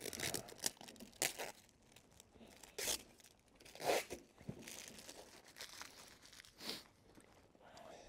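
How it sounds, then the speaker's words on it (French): Adhesive tape is peeled from a greenhouse tarp in short, sharp tearing and crinkling bursts, several separate rips spaced irregularly against a quiet background, with faint handling noise between them. "je défais les derniers scotch"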